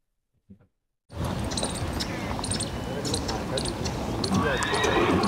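A mare on a village horse farm in Tonk district, Rajasthan, heard outdoors amid steady loud ambient noise and hoof movement, with brief talk at the very start before the sound swells.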